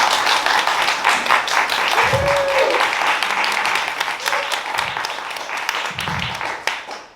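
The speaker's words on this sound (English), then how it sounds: "A big applause for Ted for doing what he does." Audience applause for an honoree at a care-sector Pride celebration event, a steady wash of clapping from a crowd that runs the whole time, with a few brief low thumps and a faint voice underneath.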